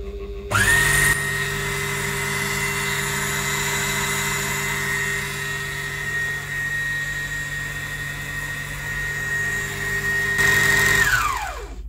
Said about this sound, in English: I'll carry on winding the bobbin.